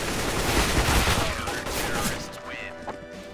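Rapid AK rifle fire in the CS:GO video game, a dense burst of shots filling the first two seconds before tailing off into quieter game ambience.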